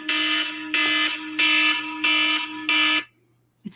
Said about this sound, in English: Oh, that was the alarm for 7:35 in the morning.